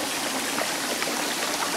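A small forest stream feeding the Barsuchka river near a travertine waterfall outside Stavropol flows with an even, close, rushing trickle and no voices.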